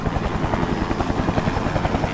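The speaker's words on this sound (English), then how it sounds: "Wait, that's an attack chopper." An attack helicopter in the video game Serious Sam 3 BFE roars loud and close, its rotor thumping in a fast steady pulse under a heavy engine drone, with no talk.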